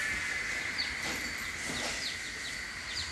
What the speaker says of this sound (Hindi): ओ पीछे एक पंछी आवाज कर रही थी ना.